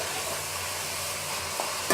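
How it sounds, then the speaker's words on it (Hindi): Carrots and chicken pieces frying together in a pan over medium heat for spaghetti: a continuous, even sizzle with faint stirring scrapes and a small clatter at the very end. "गाजर डाल के हम इसे 2-3 मिनट के लिए फ्राई करेंगे मीडियम आंच पे"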